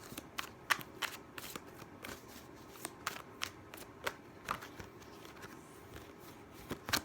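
Tarot cards being shuffled and drawn, a quiet series of crisp riffling snaps and slaps at an uneven rhythm, close and faint, with no voice over it.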